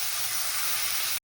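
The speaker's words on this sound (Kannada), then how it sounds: "ಈರುಳ್ಳಿ ಚೆನ್ನಾಗಿ ಫ್ರೈ ಆದಮೇಲೆ ಸ್ವಲ್ಪ ಬೆಳ್ಳುಳ್ಳಿ" Onion and garlic frying in a pan, a brief steady close hiss of sizzling that cuts off abruptly.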